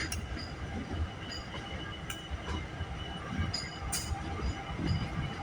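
A CPKC switcher locomotive moves near Kinnear Yard to couple onto a train, a low rumble of rail cars with faint metallic clanks and brief high squeals, heard from a distance.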